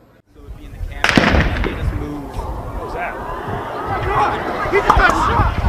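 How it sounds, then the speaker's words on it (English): Sharp gunshot-like bangs crack out amid a crowd at a public outdoor event, a loud report near the start followed by scattered further pops under a swelling babble of alarmed voices. "There were gunshots."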